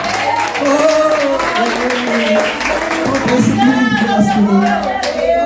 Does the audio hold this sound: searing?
no